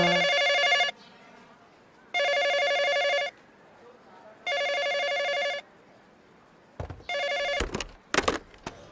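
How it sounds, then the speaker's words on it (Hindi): An electronic telephone ringtone repeats in three evenly spaced, loud bursts, each about a second long, and a fourth ring is broken up by abrupt thumps and handling noise. "इसने फोन क्यों काटा मेरा? किसका फोन था?"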